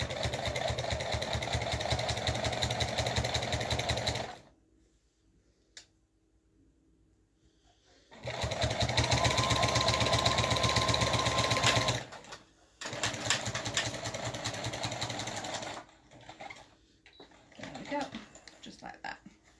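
A sewing machine stitches binding onto a Christmas stocking in bursts of fast, even motor whirring, stopping twice for pauses, with someone talking between the runs of stitching.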